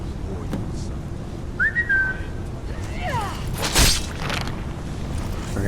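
A short rising whistle sounds in Skyrim, followed by faint swooping tones and a soft thud against steady game ambience, fairly quiet and brief, with no talk.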